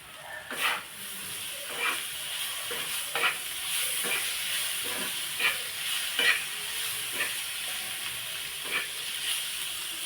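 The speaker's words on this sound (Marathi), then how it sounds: "टोमॅटो छान परतून घेऊ आपण" Tomatoes sautéing in a pan for anda tawa, a steady sizzle with a spatula scraping and stirring at irregular intervals, close and moderately loud.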